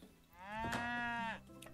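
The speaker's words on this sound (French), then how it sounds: "C'est ça que j'ai entendu moi. Mes vaches." A single loud cow moo from a herd of cattle in the Age of Empires III strategy game, a drawn-out tonal low call lasting about a second, heard alone.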